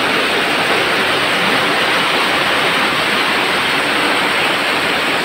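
Heavy rain pours down with water rushing along a street, a loud, unbroken wash of hissing noise with no voices.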